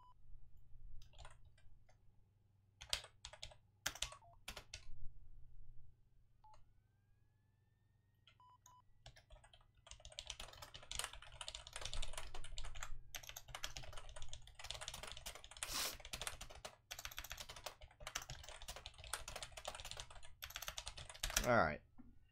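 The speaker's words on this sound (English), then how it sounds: "I hate typing that stuff out." Someone types on a computer keyboard in a quiet room, with a low hum underneath. Scattered keystrokes come first, then a long, dense run of rapid clicks that grows louder near the end.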